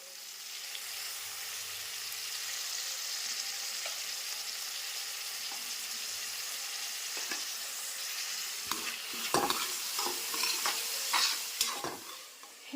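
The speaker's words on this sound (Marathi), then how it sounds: "कांदा मस्त ब्राऊन झालाय आता मी टोमॅटो टाकते" Tomatoes go into browned onions in a pan for pasta, first under a steady, even frying hiss. Then a burst of spoon scrapes and clatters comes as the mixture is stirred, close by.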